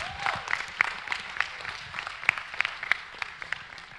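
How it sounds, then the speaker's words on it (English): A church congregation claps in a round of applause at a Sunday service, steady dense clapping with sharper individual claps popping out, moderately loud and sustained throughout. "Let's give a round of applause for Jacob."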